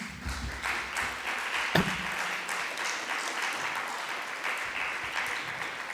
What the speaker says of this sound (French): On vous applaudit tous ici.